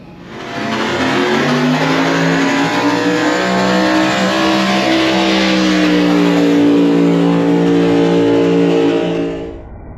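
A drag-racing car engine, the Murder Nova, revs loud and close, its pitch climbing steadily to high RPM as one sustained, rising roar that fades out at the end.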